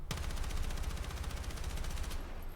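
Automatic weapon fire in the Battlefield 6 video game during a recoil test against a wall: one sustained, rapid burst of shots lasting about two seconds, loud and close, then stopping abruptly.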